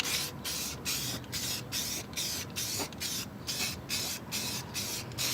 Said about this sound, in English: Spray it up.